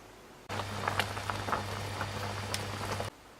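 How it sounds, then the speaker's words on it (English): Gravy made with peanut butter bubbles steadily in a pot as it reduces by half, a soft continuous simmer with scattered pops and a low hum underneath, close and fairly quiet, no voices. "Now I'm going to boil it for a few minutes until it reduces to half."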